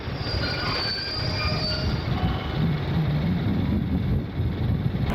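A British Rail Class 50 diesel locomotive rolls over a road crossing near the microphone, arriving from Paddington, with long metallic wheel squeal and a continuous rumble under wind buffeting.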